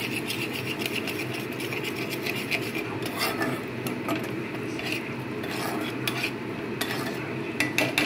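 A spoon scrapes and rubs against a pan as food is stirred, a continuous gritty rasp with clustered clinks of metal, close and fairly quiet, with no voices.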